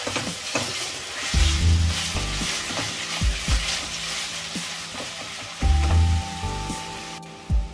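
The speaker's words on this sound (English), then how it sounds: "The ginger garlic has fried nicely." Ginger and garlic sizzle in oil in a kadai, a steady close frying hiss with bursts of louder crackle and occasional scraping stirs, no voices.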